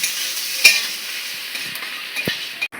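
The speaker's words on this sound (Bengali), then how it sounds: "হলুদ দিয়ে আমরা পটল আলুটা ভেজে নেব" Potato and pointed gourd frying with turmeric in a pan, a continuous soft sizzle with a few scattered clinks and scrapes of a spoon, close by and with no talking.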